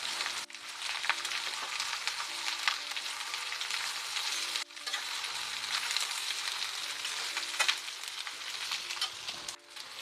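Chicken pieces frying in oil for a South Indian chicken fry, giving a steady, loud sizzle that runs continuously, with a few brief dips as the pan is stirred.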